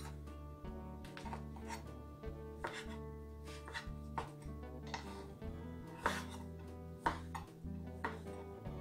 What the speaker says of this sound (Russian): Батон нарезаю кубиком.